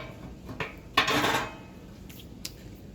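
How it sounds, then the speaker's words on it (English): Metal rebar rods set into a Pit Barrel Cooker cooking baby back ribs, giving a few light metallic clinks followed by a brief clattering rattle, then one more sharp clink near the end, fairly close. "Go ahead and get our other rebar in here"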